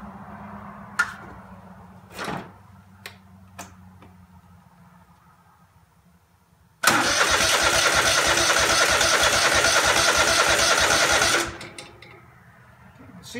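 A Craftsman DGT 6000 garden tractor engine is cranked after a few knocks and handling sounds, then roars loud and steady for about five seconds before cutting out.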